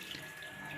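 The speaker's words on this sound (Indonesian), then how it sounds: "ini adalah kucuran di keran air saya yang tanpa melalui filter air" A household water tap fed by well water with no filter fitted gushes strongly into a sink, a steady, loud, close rushing stream that holds unbroken throughout.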